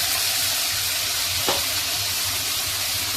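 Onion, ginger, garlic and tomato paste fry in a pan with a steady, dense sizzle throughout and one brief sharper spurt midway, close and unaccompanied by talk.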